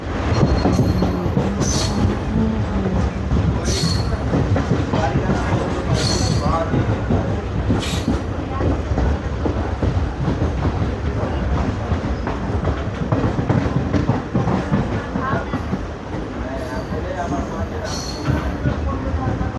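A DEMU passenger train running from Malda Court toward Siliguri rumbles along the rails with steady clickety-clack and occasional wheel squeals, loud and continuous from onboard while someone talks over it.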